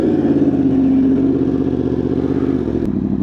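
A superbike motorcycle rides on the road, its engine a loud, steady drone with a shift in pitch near the end, heard close and alone without talk.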